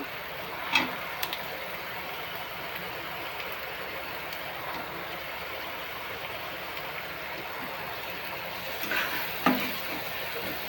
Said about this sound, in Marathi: चांगला भाजून घ्यायचा कांदा. टोमॅटो पण टाकते.